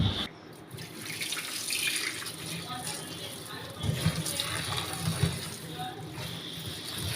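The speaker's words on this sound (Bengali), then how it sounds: "এখন ধুয়ে নেব" Tap water runs steadily into a sink while banana flower is washed by hand, with splashing and handling noises rising over the flow. A person talks now and then.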